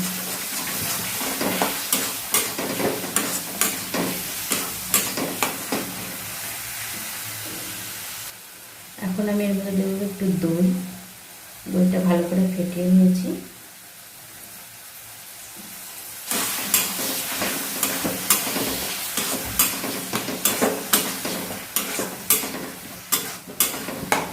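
Potatoes fry in a pan for aloo paneer masala, a sizzle broken by rhythmic spatula scrapes and clacks, with a stretch of talking and quieter sizzle midway before the stirring resumes.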